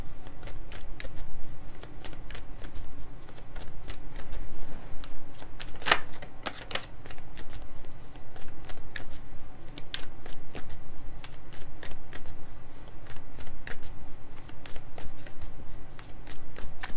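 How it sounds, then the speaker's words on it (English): Continuous crisp riffling and flicking of tarot cards being shuffled, steady and close, with soft slaps now and then and no talking. "Just wants me to keep shuffling."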